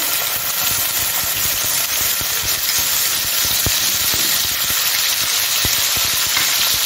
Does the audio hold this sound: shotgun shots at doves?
no